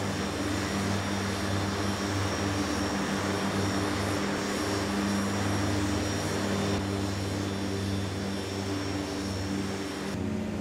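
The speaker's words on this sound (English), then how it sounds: "Engine sounds too loud." Turboprop engines of a Fokker F27 in the Prepar3D flight simulator, a loud, steady drone with constant tonal hum and broadband roar sustained throughout, cutting slightly near the end.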